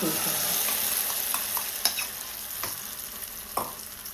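Beaten egg hits hot oil in a pan and sizzles in a steady, bright hiss, broken by several sharp clicks and scrapes as the mixture is stirred and spread; close and fairly loud, with no voices.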